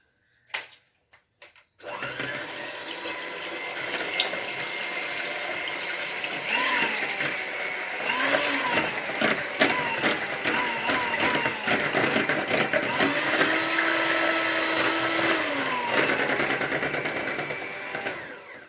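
An electric hand mixer beats egg yolks for a honey cake, starting after a few clicks and then running as a steady close whirring drone with shifting pitch as the beaters move through the bowl.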